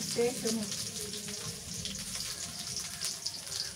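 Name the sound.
onions frying in oil in a pan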